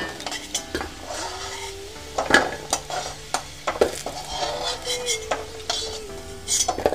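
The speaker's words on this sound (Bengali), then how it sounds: "আলুগুলো লাল লাল ভাজা হলে তুলে রাখবো।" Potato pieces fry in hot oil in a pan for a katla fish curry, a continuous sizzle broken by repeated scraping and clinks of a utensil against the metal pan, with no talking.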